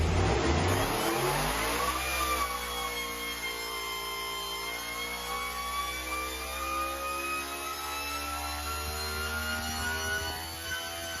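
A 1300 HP supercharged 354 Dodge Dragpak drag racing engine roars loudly and steadily, revving up hard at first, then holding a high, sustained mechanical howl alone.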